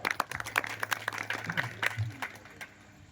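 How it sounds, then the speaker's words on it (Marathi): Kirtan audience clapping in scattered, moderately faint applause that thins out after a few seconds, with a low hum beneath. "या दोघांच्या नावाने एकदा टाळ्या वाजवा"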